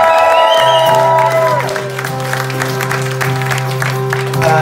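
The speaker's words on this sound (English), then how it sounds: "Let's give him another round of applause," Applause from a small pub audience at a live folk gig at The Greystones, rising over a fading sustained chord from the stage, then a tonal drone continues beneath lively clapping and a few cheers.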